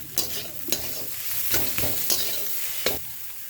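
Boiled potato sautés in a pan with garlic and chilli, a low, steady sizzle under repeated sharp scrapes of a spatula against the pan at an uneven pace.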